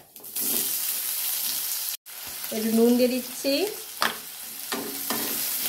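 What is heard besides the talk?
onions frying and stirred in pan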